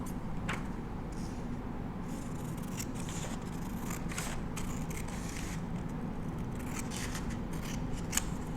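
Scissors cut through A4 paper to trim the excess from a folded square when making a paper bow. The crisp snips repeat steadily and sound close, with no voices.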